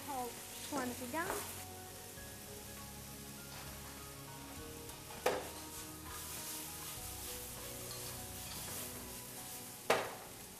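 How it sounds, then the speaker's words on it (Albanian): Thinly sliced peppers sizzle quietly and steadily in a frying pan while beef, vegetables and noodles are being cooked, with a few sharp utensil clinks and scrapes against the pan. "Specat e prera hollë shkuan në tigan."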